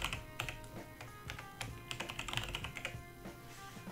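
Rapid keystrokes on a computer keyboard while a password is typed during Windows domain setup, a close, quiet flurry of uneven clicking taps.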